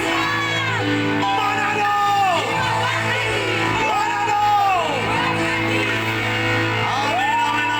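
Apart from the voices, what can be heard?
church congregation shouting and cheering for God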